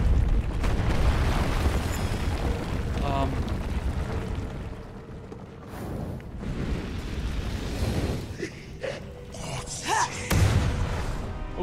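Fire spell blasts in the Lichdom Battlemage video game go off as loud, rumbling booms and bursts across a dense, noisy game mix. A few sharper pops stand out near the end, and a voice talks over parts of it.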